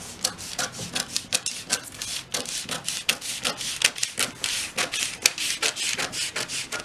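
Scissors cutting through a paper half-circle skirt pattern along a drafted line, a steady run of crisp, close snipping and rubbing strokes in quick uneven rhythm, heard alone without talk.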